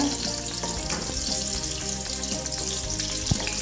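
Two ginger slices sizzle steadily in hot oil in a wok already used for cooking eggplant, a continuous close frying hiss with no talk.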